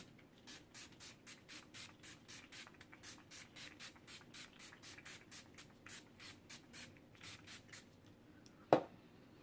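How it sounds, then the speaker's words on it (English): Rapid, soft bursts of makeup setting spray misted onto a face repeat in a steady rhythm, about two or three per second, with a sharper click near the end. "I'm just going to spray this all over my face."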